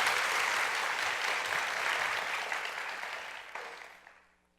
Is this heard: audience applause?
yes